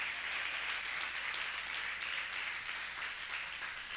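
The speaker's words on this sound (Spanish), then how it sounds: "Aplaude al Señor por esto." A church congregation at a Christian faith crusade service applauds in a steady, fairly faint wash of clapping that continues evenly throughout, with no speech over it.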